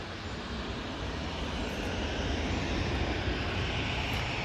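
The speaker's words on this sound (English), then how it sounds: "Next out will be the Jet 2 to Athens using the 7378" Jet airliner engines roar steadily at Manchester Airport as a Jet2 Boeing 737 prepares to depart. The broad, unbroken roar holds at a fairly even level throughout, with no voices.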